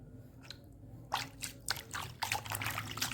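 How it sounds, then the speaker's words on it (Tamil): Hot water is poured over raw chicken liver in a kitchen, starting as faint drips then becoming a series of close, wet splashing and squishing bursts, with no talking. "கொஞ்சம் வெந்நீர் ஊற்றிக்கலாம்"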